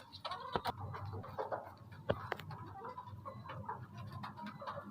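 Golden Misri hens cluck softly and intermittently, with several short sharp calls standing out over a quiet, low farmyard background, and no talk over them.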